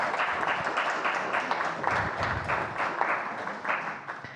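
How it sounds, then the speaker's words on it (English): An audience at a media literacy forum applauds at the close of the event, giving a dense and continuous clapping that holds steady for several seconds before thinning out slightly at the end. "another round of applause"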